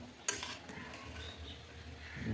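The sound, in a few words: stirring payesh (rice pudding) in a pot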